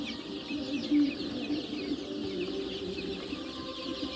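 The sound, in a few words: desi chickens clucking on a poultry farm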